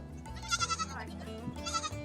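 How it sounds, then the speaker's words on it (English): Baby goats bleat in a farm setting, a cluster of wavering, high cries followed by a second burst a moment later, heard close over background noise. "here we are with the happy goats"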